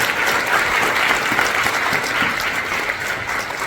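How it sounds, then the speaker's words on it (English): Loud, dense applause from a large audience at a book launch and author discussion, steady and sustained throughout with no break. "Loud round of applause for him."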